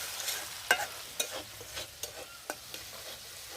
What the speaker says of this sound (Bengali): সব মশলা একসাথে ভালোভাবে কষিয়ে নেব।